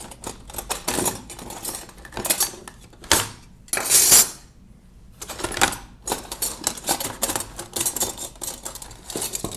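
Metal parts of a 1920s Monroe model K mechanical calculator clink and rattle in quick, busy bursts, with a brief pause and a bright metallic jangle near the middle, all close and without talk.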